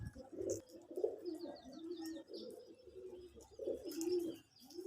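Local domestic pigeons coo repeatedly in low, rolling calls with a few higher chirps, close by and steady across the stretch.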